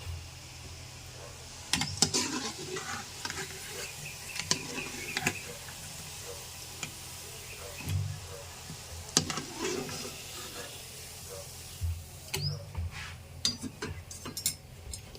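Gulab jamuns being stirred through sugar syrup in a pan, giving soft scraping and light sizzling with scattered clinks of the spoon, fairly quiet and close, with no voices.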